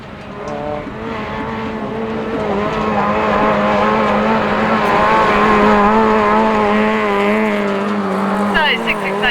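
Autograss race cars roar loudly on their last lap at a St Neots dirt track, engines droning steadily with rising and falling harmonics as they pass, with a commentator talking over the noise.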